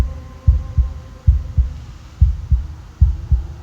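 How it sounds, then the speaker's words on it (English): A fast heartbeat from the video game Slay the Princess thumps in paired, deep beats repeating quickly and evenly over a low hum, with no one talking. "Listen to the speed of this heartbeat."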